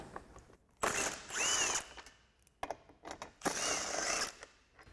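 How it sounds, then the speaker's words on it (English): A 15mm socket on a ratchet or power driver loosens bolts on the front bumper of a 2021-2024 Ford Bronco, with two loud whirring bursts of spinning and a few short clicks between them, close by. "then we'll grab our 15mm socket for these 2 bolts on the end"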